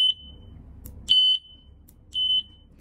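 Speaker beep from a Bluetooth M1A2-FW shot timer: three clear high-pitched electronic beeps, one short, then a longer one and another short one, sounding alone over faint background noise.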